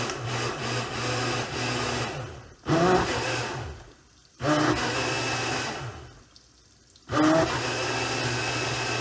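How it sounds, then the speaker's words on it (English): A kitchen blender whirs through a cherry smoothie in three loud bursts, each running a couple of seconds and separated by short silent pauses. "Back to the blender."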